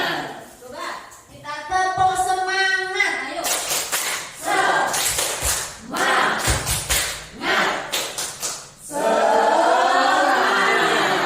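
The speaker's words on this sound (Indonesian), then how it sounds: "Coba kita tepuk semangat, ayo." Teachers at a school workshop on positive culture do a patterned spirit clap, several bursts of quick, loud unison claps in rhythmic groups, with a presenter's voice and group chanting before and after.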